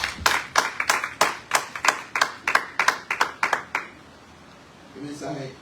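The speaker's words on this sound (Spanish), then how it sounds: "denle un aplauso fuerte al Señor" A church congregation claps in a steady rhythm, about a dozen sharp, evenly spaced claps that stop abruptly, followed by a brief faint voice.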